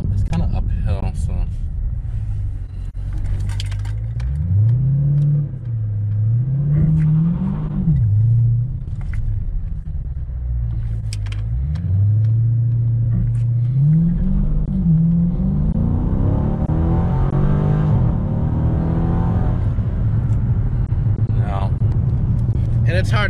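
Dodge Challenger Widebody on Pirelli P-Zero tires accelerating hard uphill from 0 to 60: a loud cabin-heard engine roar rising and dropping through repeated gear shifts, with a person talking over it.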